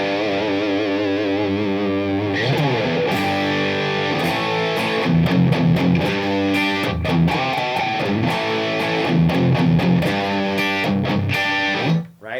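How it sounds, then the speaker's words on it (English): Electric guitar with thick 80s-style metal distortion plays a blues-metal rhythm of chugging chords and short riff phrases, loud and close, with no talking. "You can get that real thick metal sounding distortion a la 80s"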